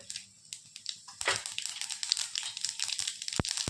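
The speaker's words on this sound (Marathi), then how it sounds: "तर मोहरी झाली बघा छानशी चटपटेच" Mustard seeds crackle and pop in hot oil for tomato chutney, a quiet scatter of sharp sizzling spits that grows busier toward the end.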